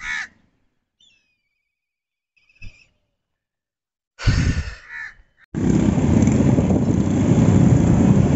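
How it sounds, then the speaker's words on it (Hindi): Crows caw near trees in Pakistan, one sharp caw, then faint calls and a louder burst of cawing with a rough close sound, before a steady loud noise like a passing engine takes over to the end. "कौवे जो है ना ये दहशत गर्द हैं"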